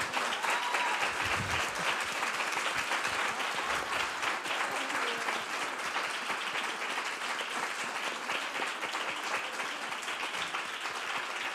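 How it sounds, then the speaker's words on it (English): Sustained audience applause at an LSE public lecture event on art, rights and resistance, a dense steady wash of clapping from a large crowd throughout, with no speech over it. "Please give them a big round of applause"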